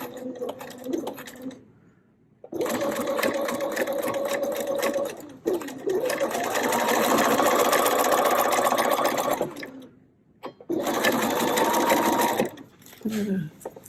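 A sewing machine stitches across a fabric pouch in three long runs of fast, close, rattling stitching, stopping briefly between runs, with a voice speaking during the pauses and partly under the machine.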